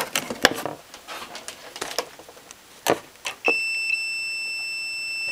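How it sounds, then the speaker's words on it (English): Multimeter continuity beep on a cheap Chinese amp meter's leads, a sustained steady electronic tone starting after a few seconds of clicking and handling noise. "I want to check that this isn't a dodgy defect and it's non-functional, so I'll do a continuity check"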